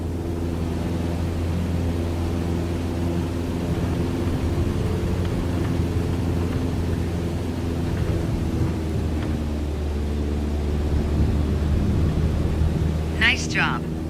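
A small single-engine airplane cruises with its engine throttled back to 2300 RPM, giving a steady, loud droning hum with a constant low tone throughout and a brief chirp near the end.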